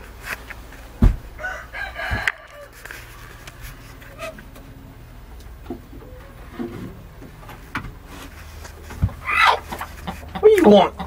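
Chickens in a hen house give scattered clucks and a burst of louder squawking calls near the end, amid rustling and occasional knocks.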